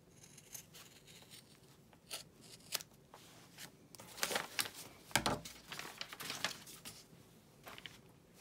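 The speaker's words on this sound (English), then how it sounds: "I'm going to put my pattern piece on top and just cut these rounded corners" Scissors snipping through fabric to round off the corners of a sewing pattern piece, a close, quiet series of crisp cuts and rustles that grows busier toward the end, with no talk.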